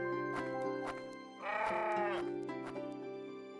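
A goat bleats in the farming sim game Daomei Village, a drawn-out wavering bleat over a steady droning game music bed, heard alone without talk.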